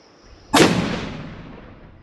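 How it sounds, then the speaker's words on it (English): A single sharp gunshot from a hunting rifle at an outdoor range, a loud close crack followed by a decaying echo and rumble lasting over a second. "I'm gonna clean it and then shoot one shot for fouling, and then I'll shoot 3 more shots."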